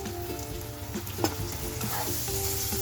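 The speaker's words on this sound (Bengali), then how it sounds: "রসুনটা একটু ভাজা হয়ে এসছে" Finely chopped garlic frying in a pan, a dense crackling sizzle with a few brisk stirring knocks, close and steady, with a low hum underneath and no talk.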